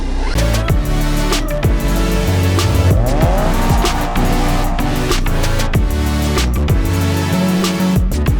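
An Alfa Romeo 4C launches hard at a drag race start, engine roaring loudly with rising revs through gear changes and tire squeal, a sustained close, aggressive blast.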